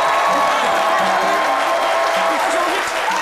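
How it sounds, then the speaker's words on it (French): A studio audience on a French midday show applauds loudly and steadily for a guest, a dense, even wash of clapping with some crowd noise mixed in throughout. "Merci d'applaudir très très fort Prissy, la dégameuse."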